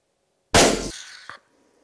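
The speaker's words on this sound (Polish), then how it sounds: "Zdecydowałem się jednak oddać strzał do rogacza." A single sharp rifle shot fired at a roe buck in the hunting field cracks loudly out of silence, followed by a short fading echo and a faint secondary knock before quiet returns.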